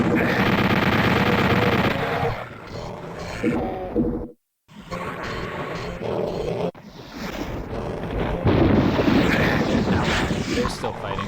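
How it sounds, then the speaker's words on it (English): Rapid chain gun fire in a retro first-person shooter game, dense continuous bursts over game noise, briefly cutting out partway through before resuming loud and sustained. "Shooting chain gun."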